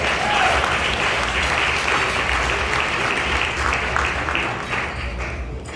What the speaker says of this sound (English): clap on that